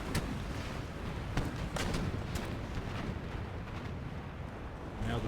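Ship cannons firing in a naval battle in Empire Total War, a continuous rumbling barrage with repeated sharp booms and cracks layered over each other, loud and sustained throughout with a few distinct louder shots standing out.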